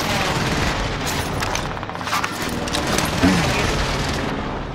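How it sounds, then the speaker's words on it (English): Precision airstrike explosions in Warzone, a continuous rumbling barrage of blasts and rapid gunfire, loud and dense throughout with one sharper impact near the end. "Allied precision airstrike incoming."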